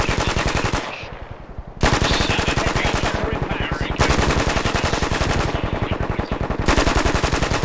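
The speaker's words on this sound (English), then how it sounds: "Just keep firing. Keep it going." Sustained machine-gun fire in a military video game, loud rapid rhythmic bursts in long strings broken by brief pauses, with a voice faintly in the background.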